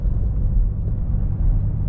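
A Fisker Karma sports car cruising on a highway, heard from inside as a steady low road rumble and muffled engine hum, constant and unbroken, without any talking.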